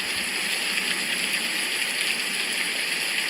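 Heavy rain falls steadily on a very rainy day, a dense continuous hiss with constant dripping, close and unbroken.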